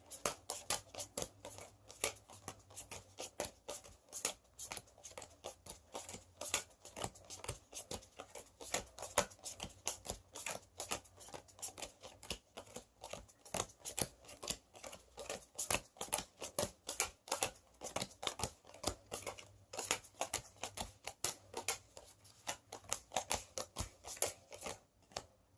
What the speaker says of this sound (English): it's hard to get like between all the cards when you're just shuffling by hand